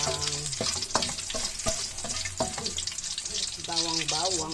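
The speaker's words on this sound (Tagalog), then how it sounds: "Guys, magigisa na natin guys yung bawang." Garlic sautés in a pan for chicken tinola, a bright steady sizzle broken by several scraping stirs and clanks, with a brief voice near the end.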